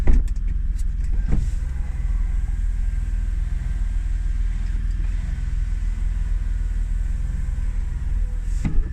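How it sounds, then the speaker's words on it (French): Electric sunroof of a 1990 BMW 735i running inside the car, a steady motor whine with cabin rumble throughout, bracketed by brief clunks near the start and end. "Toit ouvrant,"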